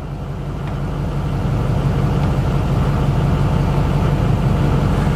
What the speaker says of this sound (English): turn on the lights only, set the engine at idle, and run that test.